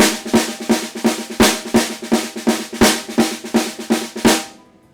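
A drum played in a steady triplet pattern of right-left-left sticking, strong accents recurring in groups of three, close and loud, ending with a ringing decay.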